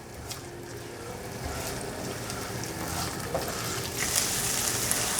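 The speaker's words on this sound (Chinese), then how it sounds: "油有微热了，放入姜末，把姜末炒香" Minced ginger frying in a tablespoon of slightly warm oil for a vegan sauce, giving a steady, soft sizzle that stays even and low throughout with no voices.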